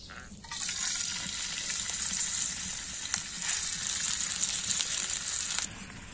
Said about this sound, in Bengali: এটাকে ভালো করে নেড়ে ভেজে তারপর পেঁয়াজ দিয়ে দিব।